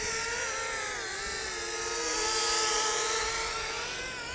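A Helifar H816 selfie drone whines overhead at full forward throttle against strong wind, its high buzzing rotors wavering and swelling slightly in pitch and loudness, steady and fairly near, with no voices.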